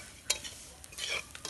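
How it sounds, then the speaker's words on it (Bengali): Raw vermicelli (shewi) frying in hot oil in a kadai is stirred with a metal spatula, giving a quiet sizzle broken by sharp scraping strokes and light rustles, close by with no voices. "এবার আস্তে করে খুন্তি দিয়ে নাড়া দেবো, নেড়ে ভেজে নেবো এগুলো ঠিকভাবে"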